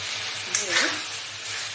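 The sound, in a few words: fried pointed gourd and tomato sizzling in pan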